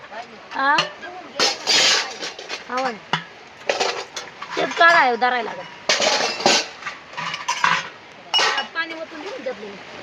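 Metal cooking pots and utensils are taken out and set down at a rural hillside shelter, clanking and clinking in irregular bursts close by while someone talks over them.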